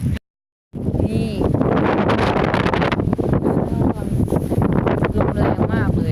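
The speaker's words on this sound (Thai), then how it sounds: "ลมแรงมากเลย" Strong wind buffets the microphone at a waterfall campsite at Chet Khot, Pong Kon Sao, Saraburi, a loud, rough continuous roar with voices talking underneath.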